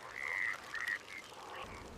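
Frog croaks in two short, bright, raspy bursts followed by a fainter third, quick and close with nothing else heard.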